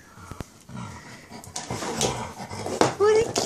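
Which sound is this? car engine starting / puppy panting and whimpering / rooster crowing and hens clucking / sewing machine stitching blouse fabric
puppy panting and whimpering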